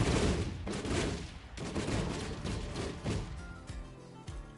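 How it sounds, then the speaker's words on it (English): In the Terra Tech game, missiles strike a rock in a dense, continuous flurry of overlapping blasts and crackling impacts, loud and close, with a few sharper hits near the end. "the missiles were still attached and they bumped into the rock"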